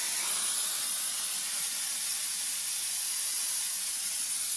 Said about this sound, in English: what I'm going to do is go ahead and just spray the whole thing down